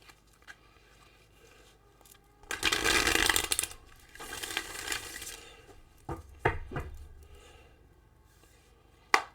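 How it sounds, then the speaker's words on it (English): Quick riffling bursts of cards being shuffled, a long rustling flurry in the middle and a few sharper snaps toward the end, close and fairly quiet. "Mark is really good at shuffling for sure"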